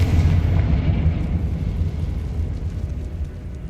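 A Confringo blasting spell explodes in the Hogwarts Legacy video game, a loud, deep rumbling boom that rolls on and slowly fades, with no talking.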